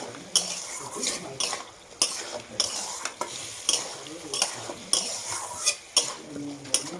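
Fried taro pieces are stirred into a tomato rohu fish curry in a pan, with roughly once-a-second metallic clinks and scrapes of a spoon over a soft sizzle, close and rhythmic with no talking.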